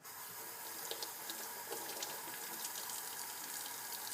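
Running tap water flows steadily over felted soap being rinsed and squeezed at a sink, a continuous close hiss of water with small splashes and handling noises.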